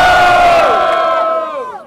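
Loud crowd at a hip-hop battle final in Botafogo cheering and shouting for a rapper, one sustained roar of many voices that slowly fades near the end.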